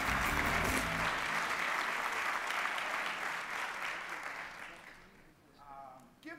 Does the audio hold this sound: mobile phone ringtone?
no